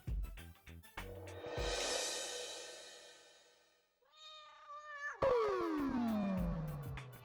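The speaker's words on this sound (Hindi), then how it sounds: "आज से पहले बिल्लियों की इतनी खतरनाक रोने की आवाज मैंने कभी नहीं सुनी।" Cats wail and yowl loudly in long, drawn-out cries, one rising and falling into a strained howl near the end, with no talking.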